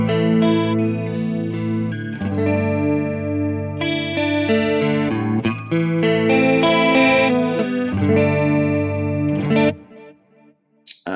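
An electric guitar, detuned downward through a Mooer Pitch Box pitch shifter pedal, plays chords and single notes with a heavy, distorted, chorus-like tone, then stops abruptly and leaves near silence.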